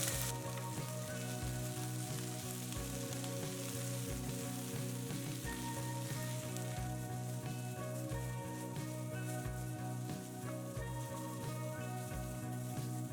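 Freshly washed mint leaves sautéing in hot oil in a pan, giving a steady, dense sizzle and crackle throughout with faint stirring ticks underneath, no talking.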